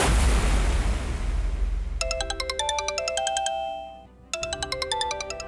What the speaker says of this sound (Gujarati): પપ્પા, ફોન.